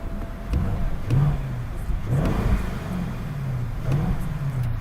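A 650 hp Lamborghini Urus SUV engine revs repeatedly, rough throaty rises and falls in pitch, fairly close and loud, with no talking.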